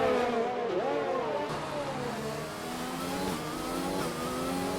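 A Formula 1-style race car engine in the racing game rFactor, screaming at high revs with pitch dipping and climbing through gear changes, steady and loud throughout with no talk.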